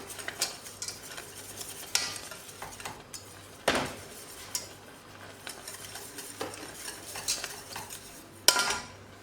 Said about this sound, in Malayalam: ഇതുപോലെ കട്ടിയാവണവരെ കുറുക്കിയെടുക്കണം കേട്ടോ. കൈവിടാണ്ട് ഇളക്കി കൊടുക്കാൻ വേണം.